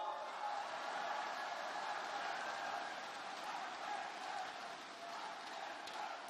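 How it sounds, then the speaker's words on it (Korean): Party members at a Liberty Korea Party youth rally in Daegu–Gyeongbuk roar with a steady, sustained crowd cheer and shouting, filling the room evenly for several seconds without a clear break. "당원 여러분 힘차게 함성을 질러주시기 바랍니다"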